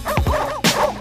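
Short dog barks and yips from a board game's sound effects, a couple of quick close barks followed by a louder burst, with no speech over them.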